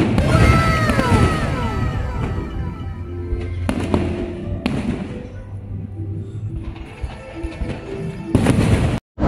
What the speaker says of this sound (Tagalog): Yan, may fireworks. Ang ganda.